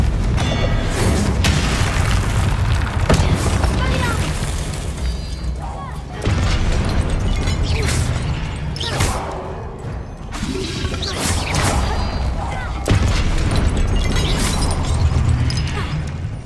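Confringo blasting-spell explosions in Hogwarts Legacy, several loud booming bursts with crashing debris rolling through a dense, continuous game soundscape, with a voice speaking over parts of it.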